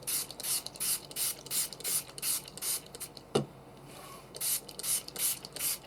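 Water misted from a spray bottle onto inked junk journal pages: a steady run of short, close hissing pumps, a brief knock partway through, then more quick squirts.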